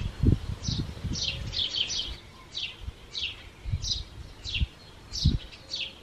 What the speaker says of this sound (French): c'est d'entendre la douce chorale matinale des oiseaux